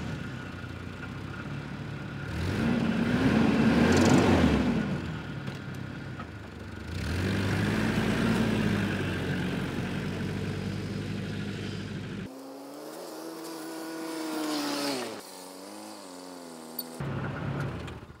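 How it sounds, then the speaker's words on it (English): A camper van's engine runs fairly quietly with a newly fitted muffler, a low steady hum that swells and eases a few times before settling into a softer, smoother idle near the end. "So now with that new muffler, things are so much quieter."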